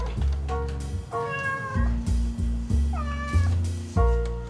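A cat meows repeatedly up close, a string of loud, drawn-out, wavering cries with short gaps between them and no talking over them.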